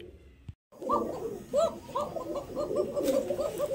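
Several Giribaz pigeons in a pigeon farm loft coo continuously, overlapping soft throaty calls that fill the space without pause.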